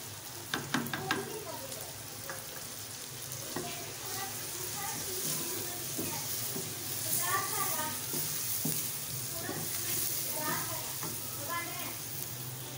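Stuffed tinda fry in a pan with black pepper, salt and other spices, giving a steady low sizzle with intermittent stirring scrapes and a few clinks near the start, close and moderately quiet.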